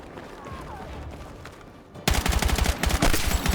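Rapid gunfire in Battlefield 6, starting as distant muffled shots under game ambience, then abruptly turning into loud, close bursts of automatic fire with a fast steady rhythm.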